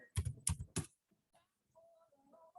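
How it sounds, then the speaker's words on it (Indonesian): Three quick, sharp keystrokes on a computer keyboard while entering an author's name into a search box, followed by faint, sparse clicks and soft background tones. "saya akan mengetikkan salah satu penulis favorit saya, Citra Banerjee Divakaruni."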